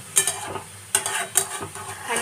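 A spoon scrapes through thick chicken kosa gravy, made with egg and yogurt, in a pan, giving three distinct strokes over a soft background sizzle of frying.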